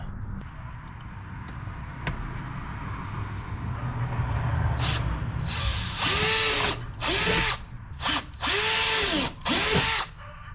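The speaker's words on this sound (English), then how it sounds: "These two holes require a 1/4 inch drill bit, so let me get those drilled out." A power drill with a 1/4 inch bit bores holes while a tablet holder is mounted on a Can-Am Maverick Trail, the motor whining loudly in five short, close bursts with pauses between them.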